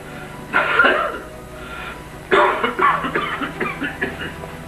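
A man coughs and clears his throat in two bursts, a short fit first and then a longer run of rough, repeated coughs, close and fairly loud over a low steady hum.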